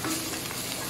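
Oil and butter sizzle steadily in a hot pan while beef tapa fries, a dense close hiss with some stirring, no voices.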